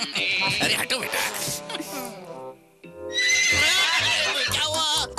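A horse whinnies loudly in two long, wavering neighs separated by a brief pause, close and prominent with musical sound underneath.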